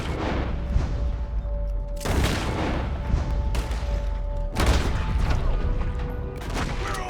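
Heavy gunfire in Red Dead Redemption 2 during a yacht robbery, loud and sustained, with dense booming shots and sharp volleys surging around two and four and a half seconds.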